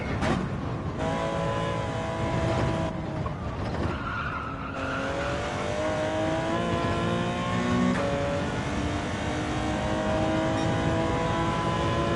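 A race car in Gran Turismo 7 runs a 12-lap race at Daytona. Its engine drones and shifts pitch continuously at close range, mixed with tire squeal and skidding, with no talk.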